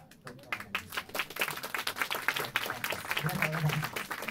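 Applause from a small audience at a live concert at Ikebukuro Black Hole, a short burst of scattered clapping under a person talking, close and moderate.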